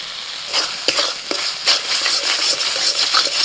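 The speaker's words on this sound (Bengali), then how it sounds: "হলুদ বাটা, অল্প একটু জল দিয়ে মশলাটা ভালো করে কষিয়ে নিচ্ছি।" Masala paste of ground cumin, dried chilli and turmeric with a little water sizzles in a pan while being stirred, steady frying hiss broken by several scraping strokes of the spatula.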